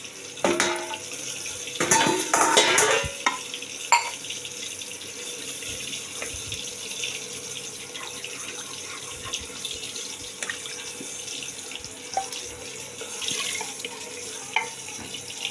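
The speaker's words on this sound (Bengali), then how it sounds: "আর একটু জল দেবো আমি" Water pours from a tap into a mutton curry pot, with a loud splashing burst early on and then a steady, quieter trickle and light clinks of pots, close by and with no talk.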